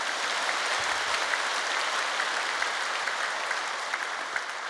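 A church congregation at a Korean worship service breaks into applause, a thick, continuous wash of many hands clapping at steady volume throughout, with no voices rising above it.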